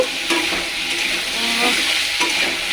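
Potatoes fry in a pan of hot oil for a vegetarian Panchami meal, giving a continuous close sizzle with soft stirring scrapes throughout.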